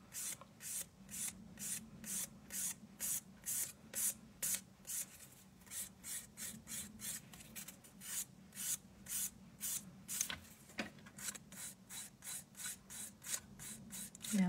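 A nail file rasps rhythmically back and forth across an acrylic gel nail, a quick, even series of soft, close scratching strokes repeated steadily throughout, with no speech.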